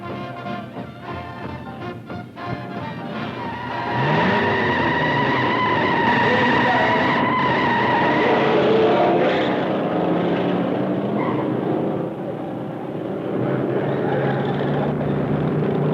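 Racing cars including a Ford Thunderbird speed past with a sustained, roaring engine drone that swells loud and steady, holding a whining tone as they pass, then eases slightly and continues; no talking.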